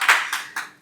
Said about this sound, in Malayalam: ഇതൊക്കെ കൈയടിക്കാം